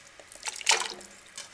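Water being poured into a pressure cooker holding mutton: a short splashing trickle that swells briefly and then fades, with no voices.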